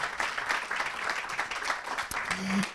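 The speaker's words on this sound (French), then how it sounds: "On l'applaudit également." A seated audience at a health-prevention conference applauds a speaker in a steady, moderately loud round of clapping, with a brief low murmur or tone near the end.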